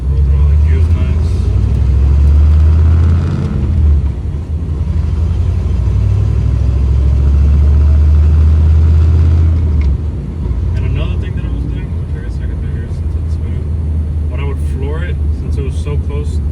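A C-notched truck nicknamed Sexy Redd rolls through its gears, the engine rumbling loud and close with shifts in pitch, while a person talks over it.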